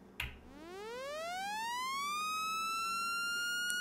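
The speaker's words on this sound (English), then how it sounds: "the oscillator mod is now adding a bunch of frequency to whatever frequency is being generated by the keyboard" Behringer Crave synthesizer playing a single sawtooth note whose pitch sweeps upward from low to high under envelope modulation, then holds steady, with a faint click at the start and nothing else.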